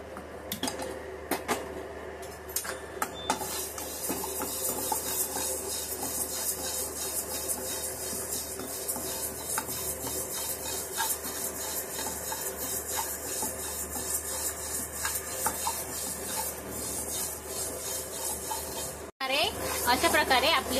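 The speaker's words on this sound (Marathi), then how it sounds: "मुगाची डाळ भाजून घेऊया।" Moong dal being dry roasted in a pan, a soft continuous scraping and rustling of stirred lentils with light metallic contact against the pan.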